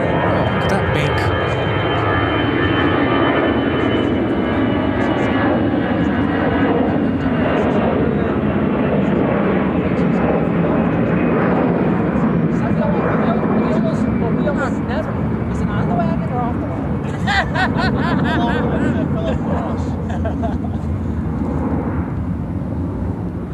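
An airliner banks on approach to Chicago O'Hare with a loud, continuous jet roar. A faint engine whine slides downward as the aircraft passes nearby.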